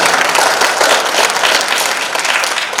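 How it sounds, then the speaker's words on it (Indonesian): An audience at a provincial Quran recitation contest awards ceremony in East Java claps in dense, sustained applause that stays loud and even throughout. "Tepuk tangan Mbak Wali."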